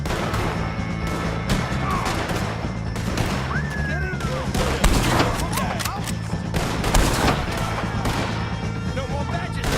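Gunfire in the video game Red Dead Redemption 2 during a shootout with O'Driscolls, a steady barrage of overlapping shots and cracks, fairly loud and continuous, mixed with shouting voices.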